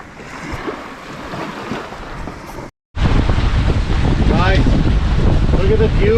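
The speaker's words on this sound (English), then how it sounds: "We are sailing, no engine, full sails out." Sailboat under full sails with no engine, with wind buffeting the microphone and waves rushing along the hull. The sound is a loud, steady roar that cuts out briefly, then returns stronger, and a voice speaks over it.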